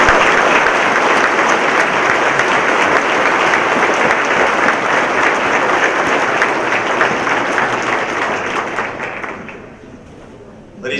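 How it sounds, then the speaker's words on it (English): A large conference audience applauds in a sustained, dense wash of clapping at an opening session, steady and loud before thinning and fading out near the end. "One more round of applause for the mayor of Los Angeles."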